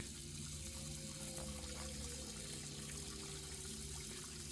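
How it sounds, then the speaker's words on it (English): Water gushing from a broken pipe in the video game Graveyard Shift, a constant rushing, hissing flow that stays steady and fairly loud throughout with no voices. "Pointing at the water leak."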